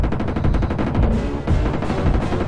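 Rapid gunfire in a Jurassic Park 2 SNES game, fired from a jeep at a T-Rex: a dense, loud, continuous stream of evenly spaced shots that stays unbroken throughout.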